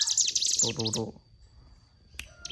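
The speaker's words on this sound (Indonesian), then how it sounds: "dia akan nerecep teman-teman ya, atau suara ciri khas Cigun ya, akan nerecep" Ciblek gunung (mountain prinia) chirping while being teased, a close burst of rapid, bright twittering notes followed by a quiet pause and a few sharp calls at the end.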